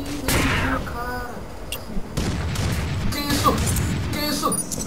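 Sniper gunshot in the Uber Strike shooter game on the Sky Garden map, a sharp blast near the start followed by further booming shots and bursts, with someone talking excitedly over the gunfire.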